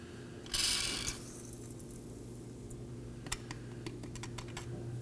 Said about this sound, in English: I'm going to spray some penetrating fluid.